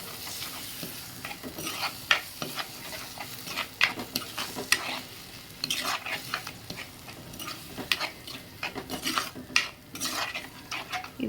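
Ground masala paste is stirred with fried onions in a pan for green gram curry, with a low sizzle under repeated scraping spoon strokes and metallic clinks in an uneven rhythm.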